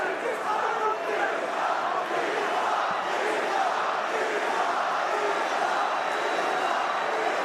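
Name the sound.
crowd chanting Islam at UFC fight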